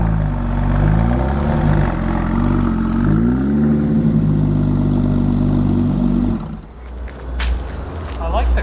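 A Porsche 996 engine running through a short drive, a steady droning engine note that rises and falls with revs and gear changes, then drops away near the end as a voice speaks.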